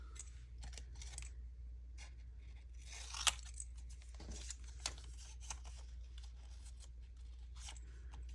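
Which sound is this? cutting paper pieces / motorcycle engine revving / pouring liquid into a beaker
cutting paper pieces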